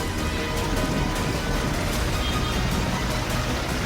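Heavy monsoon rain pours down on flooded, waterlogged streets in Durga Vihar, Delhi, a dense, steady hiss of downpour filling the whole scene, loud and continuous with no voices.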